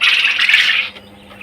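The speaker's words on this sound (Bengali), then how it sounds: "কোয়েল পাখিগুলো সুস্থ যেন থাকে।" Quail kept on a village farm give a loud, close burst of harsh squawking calls for just under a second, then fall quiet.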